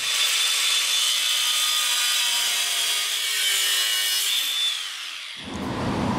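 An exhaust pipe on a 2003 Infiniti G35 is cut right at the weld near the silencer, giving a loud, steady, harsh rasping saw noise that runs close and continuous for about five seconds before stopping.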